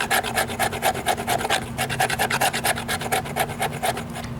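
An Abyssal Wolf Forge Timber Wolf knife scrapes and shaves wood in a steady run of about twenty quick, close rasping strokes, with no talking.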